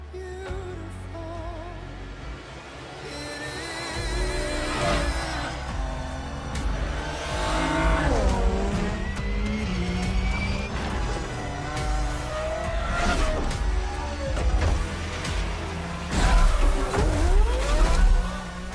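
Race cars in the racing video game Forza Motorsport 7 rev and accelerate hard, engine notes sweeping up and down through gear changes with tire squeals and skids, loud and busy under game music, no talking.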